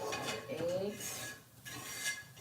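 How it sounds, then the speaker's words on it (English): A utensil scrapes and rasps against a pan while eggs are stirred for fried rice, giving a few short, close scraping strokes at low volume with no talking. "I hate that like scraping sound"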